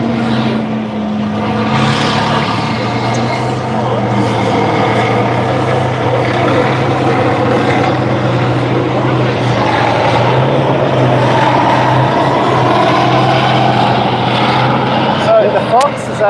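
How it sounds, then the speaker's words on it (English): An armoured Fox reconnaissance vehicle from the late 1960s drives past at a tank show, its steady engine drone loud and close throughout, with people talking over it. "Oh, we got the Fox coming up now. Ah, the little Fox."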